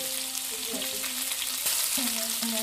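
Ground spices, Kashmiri chilli powder and turmeric, sautéed in oil in a kadai for a Bengali katla fish kalia with green tomato, giving a steady close sizzle with occasional stirring scrapes and no talk.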